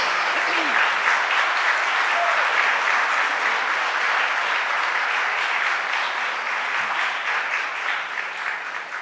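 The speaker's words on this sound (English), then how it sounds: "Let's give them a round of applause." Audience in the council chamber applauds students from Dobbins High School standing in the balcony, a steady, dense wash of clapping that fills the whole stretch and tapers slightly at the end, with a brief voice early on.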